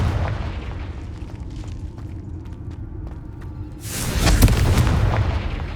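A Confringo fire spell bursts in Hogwarts Legacy, a booming explosion arriving near the end after quieter ambient game sounds with scattered light clicks.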